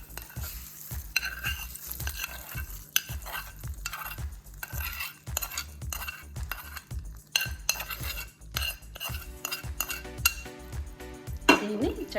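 Spoon stirring chinnulli kaaram, a Telugu onion and chili mix, in a pan, steady scraping and clinking strokes against metal close by, with a soft sizzle underneath.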